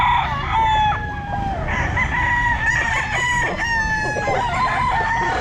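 A stag, a young rooster, crows repeatedly at a busy pet market, its calls overlapping with other roosters crowing and clucking nearby in a steady, loud chorus.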